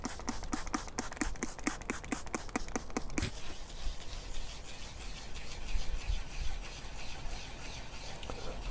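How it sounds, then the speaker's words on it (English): Wet sandpaper is rubbed by hand over a plastic car headlight, first in quick rhythmic back-and-forth strokes, then in a continuous circular scrubbing rasp that sounds close and steady. "lightly going over the surface with the sandpaper"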